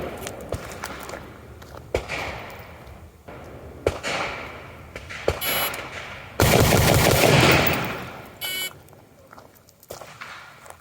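Handgun shots fired at a target 5 yards away from a mid-stride walking stance at a shooting range: a few sharp, loud reports spaced a second or two apart, followed by a longer, denser burst of rapid shots.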